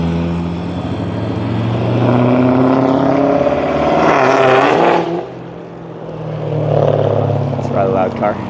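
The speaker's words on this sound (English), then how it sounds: "That's a rather loud car." A loud car passes close by on a roadside while hitchhiking, its engine roar swelling to a peak midway and then fading, with a second vehicle rising near the end.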